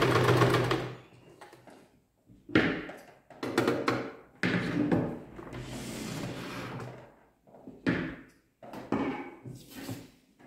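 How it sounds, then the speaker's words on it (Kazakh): A sewing machine stitches fabric for a garment in several bursts of rapid mechanical whirring, each run stopping and starting again, close and loud with quiet gaps between. "енді осы жерді тігеміз"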